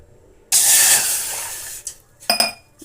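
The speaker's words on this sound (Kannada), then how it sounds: "ಇವಾಗ ನಾನು ರವೆ ತುಪ್ಪದಲ್ಲಿ ಹುರ್ಕೊತಾ ಇದ್ದೇನೆ" Chiroti rava semolina roasting in ghee in a pan, a steady bright sizzling hiss that starts abruptly and holds for over a second, then fades, followed by a couple of short crackling bursts, close and fairly loud with no talking.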